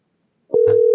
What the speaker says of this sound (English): Y'all hear the ring?